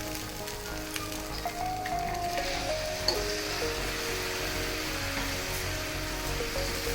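Prawns hitting a hot pan of spiced rice for prawn pulao, giving a steady, fairly loud sizzle and frying hiss that carries on without pause, with no talking.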